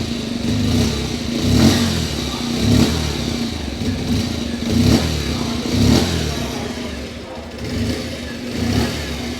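A 2025 Bajaj Pulsar 125 motorcycle's 125cc engine idles loudly nearby, revving up in regular surges roughly every second.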